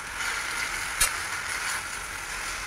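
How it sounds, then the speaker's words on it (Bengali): Onions and garlic sautéing in a pan with salt and turmeric, a soft continuous sizzle with a single sharp clink of a utensil partway through. "নুন আর হলুদ দিয়ে এখন একটুক্ষণ কষতে হবে, পেঁয়াজ রসুনের সাথে মিক্স করে একটুক্ষণ"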